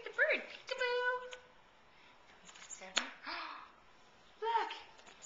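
A cat meows several times, drawn-out calls in separate bursts, close by, with voices speaking around them.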